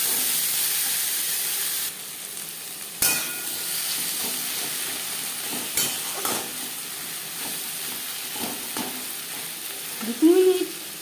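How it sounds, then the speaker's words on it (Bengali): Eggplant frying in fish oil with onion and spices: a steady, close sizzle runs throughout, broken by sharp scrapes and clatters of stirring and a louder burst of bubbling near the end. "মাছের তেল পেঁয়াজের ও মশলার সাথে কুক করে নেওয়ার পর দিয়ে দেবো বেগুন"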